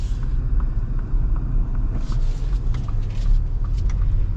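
Lifted, leveled Ford Expedition with the 3.5 engine cruising on the road, a steady low rumble with tire and wind noise throughout, no voices.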